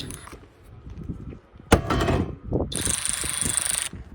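A SeeSii RT600B cordless ratchet wrench running on a Makita battery gives a close mechanical whir and clicking pawl rattle in short bursts, with a brief high buzzing stretch near the end and no talking.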